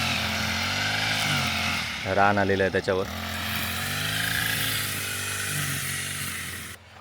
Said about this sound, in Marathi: थोडे ग्रास कटर मारता